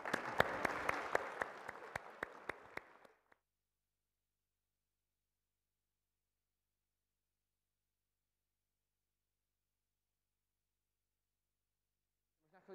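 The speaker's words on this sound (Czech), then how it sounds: "Myslím, že můžeme zatleskat." A church congregation breaks into a burst of applause after a blessing of children, dense clapping for about three seconds that cuts off into silence, with faint sound returning at the very end.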